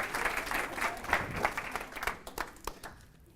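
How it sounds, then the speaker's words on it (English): A small audience gives a round of applause at a live speaking challenge event, the clapping faint and fading out toward the end. "Round of applause."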